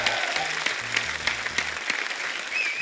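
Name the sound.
studio audience applause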